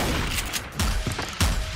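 Rapid gunfire in the Terrordrome video game, with several punchy shots in quick bursts standing out over a steady wash of game noise and no talking.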